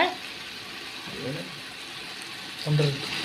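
Hot water, about one and a half litres, is poured into a pot of chicken biryani on the stove, giving a steady faint watery wash and sizzle from close by.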